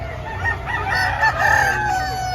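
Roosters at a Tuesday chicken market in Padre Garcia, Batangas, crowing in a busy overlapping chorus close by over a steady crowd murmur.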